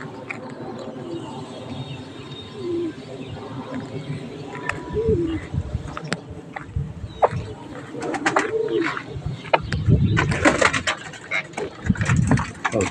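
Soft pigeon coos repeat in the background amid rustling and shuffling noises, with a few sharper knocks and bursts of louder handling sound toward the end.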